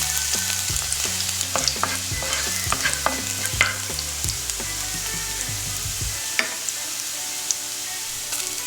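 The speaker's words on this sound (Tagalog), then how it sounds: "gigisa natin yung sibuyas at bawang" Garlic and onion sautéing in cooking oil for chicken sotanghon soup, a close sizzle under repeated scraping and stirring strokes that stop after about six seconds, leaving a softer hiss with a few light clinks.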